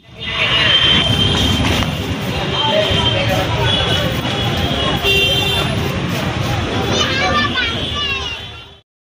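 Busy street traffic in Dhaka city: a steady roar of vehicles with repeated horn toots, heard up close, with voices talking nearby throughout.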